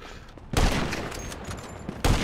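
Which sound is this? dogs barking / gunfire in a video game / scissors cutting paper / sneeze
gunfire in a video game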